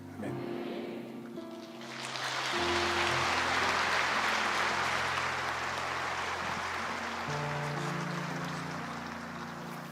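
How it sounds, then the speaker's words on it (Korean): An audience at a church stewardship seminar breaks into sustained applause after a lecture, swelling around two seconds in and holding steady and loud to the end, with a low hum beneath. "귀한 강의를 섬겨주신 대표님에게 다시 한번 큰 박수로 감사드리겠습니다"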